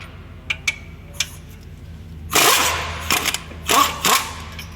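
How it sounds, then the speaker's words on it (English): A 21mm brake caliper bracket bolt on a 2018 VW GTI is broken loose and spun off, with a few sharp ticks and clicks, then bursts of loud rattling impact-tool hammering close by. "we're gonna take our bracket bolt off"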